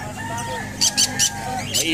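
Chickens and a rooster in a coop, with short bursts of clucking and squawking over a busy background, with people talking nearby.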